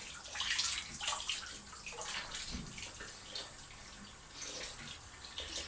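Water running into a bathroom sink while faces are splashed and washed, a continuous hiss of the stream with uneven splashes and gurgles rising and falling, close and fairly loud, with no talking.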